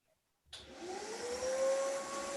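A vacuum cleaner switches on abruptly after a moment of near silence, then runs as a steady broadband roar with a rising whine that settles into a constant tone, loud and close, with no voices.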